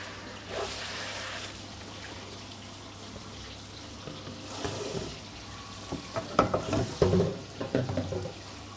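Food deep frying for a country fried steak, with a soft steady sizzle throughout and sharper crackles and pops bursting in during the last few seconds as pieces are added and flipped.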